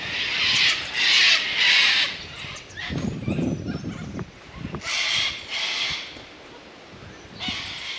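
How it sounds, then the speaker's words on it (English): Wild birds call noisily just before six in the morning, bursts of loud high chattering and cawing that come and go in waves, with a lower rougher call midway, at a campsite in Victoria's High Country. "These birds have been at it since about 5."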